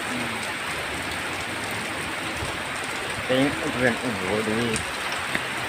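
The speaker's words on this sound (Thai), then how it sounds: "ดูบรรยากาศยามฝนตกมั่ง เปลี่ยนมาเป็นฝนตก" Rain falls steadily in a dense, even hiss of drops on surfaces nearby, continuing under a voice speaking briefly partway through.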